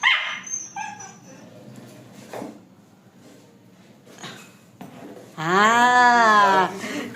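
Pet dogs bark and yip in short bursts close by, then a long, loud whining yelp rises and falls near the end, with a person speaking softly in between.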